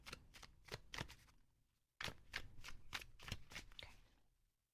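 Tarot cards shuffled by hand: two runs of quick riffling flicks in steady rhythm, close and soft, with a brief pause between them before fading out.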